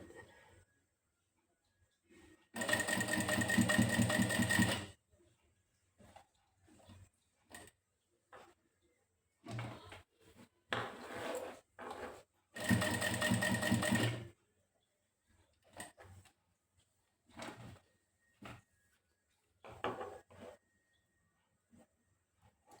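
Sewing machine stitching a shirt seam: two loud sustained bursts of rapid mechanical whirring, with short stop-start runs and small clicks between them, close and without talk.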